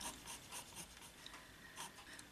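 Faint rhythmic rasping as a small piece for a 1:6 scale miniature piano bench is sanded, soft repeated strokes close up in a quiet room.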